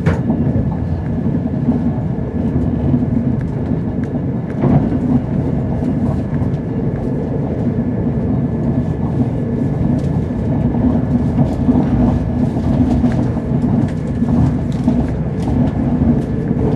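Steady rumble of a Scotrail Class 170 passenger train rolling along the rails between Inverness and Perth, constant and fairly loud, with faint clicks over the track joints.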